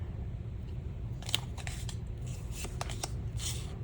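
Tarot cards are shuffled and drawn in a quiet room, a few soft crisp riffles and flicks standing out over faint low background noise.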